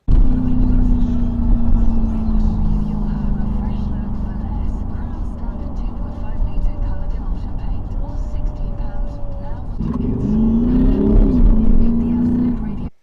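Deep engine rumble of an Audi SQ8 SUV building steadily inside the cabin, rising in pitch as it accelerates, with a gearshift partway through and the roar swelling again.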